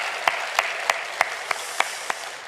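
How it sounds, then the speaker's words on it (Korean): Church congregation at a Sunday worship service clapping in praise, a steady wash of many hands with a few sharper claps standing out at regular intervals, moderately loud and fairly close, with no voices over it. "큰 은혜 주신 하나님께 영광과 감사의 박수 올려드리겠습니다"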